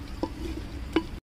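Mutton cooking in a handi pot sizzles in a steady, moderate hiss while being stirred, with two brief scraping knocks of the utensil against the pot before the sound cuts off.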